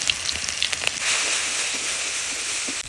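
Garlic paste, turmeric and chili powder fry in hot oil in a pan, a continuous bright sizzling hiss with small pops and crackles throughout, close and steady.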